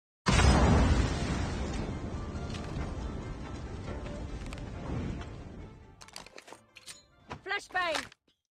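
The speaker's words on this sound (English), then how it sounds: "Flashbang." A flashbang grenade detonates in a competitive tactical shooter match, a loud broadband blast with a long ringing decay that fades over several seconds before sharp game sounds and clicks return near the end.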